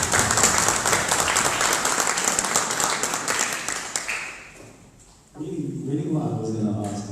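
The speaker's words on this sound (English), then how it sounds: "I would like to give you a big clap." Audience applause fills a room at a film presentation in Brixton library, London, a dense burst of clapping lasting about five seconds before it fades and a voice begins speaking.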